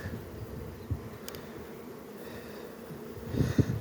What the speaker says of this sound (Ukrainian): Ось на крайній рамці вже бджола ось висить.